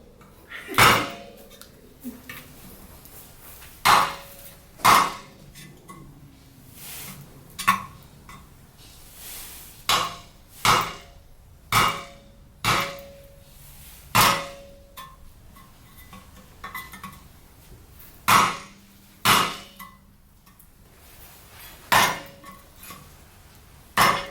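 Repeated metal hammer strikes on a part during teardown of a Briggs & Stratton 121S02 small engine, about a dozen sharp close clanging hits spaced a second or two apart, with faint quiet talk between some blows.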